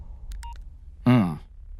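A phone in a Hindi-dubbed thriller film scene sounds an incoming call: a few short electronic beeps, then a louder, brief melodic ringtone burst, close and clear.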